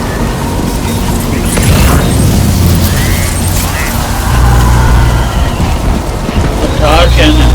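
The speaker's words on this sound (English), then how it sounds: "A tar cannon." A tar cannon firing in the video game Death Stranding 2, heavy booming blasts over a constant rain-like rush and mechanical rumble, loud and close throughout.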